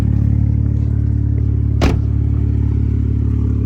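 Straight-piped BMW 2 Series idling with a loud, steady deep drone and one brief sharp crackle midway through.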